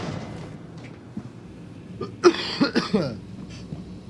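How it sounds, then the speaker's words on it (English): A few sharp coughs burst out in quick succession after a quiet stretch, close and fairly loud, likely a player coughing during a space station game session. "I'm so tired of coughing"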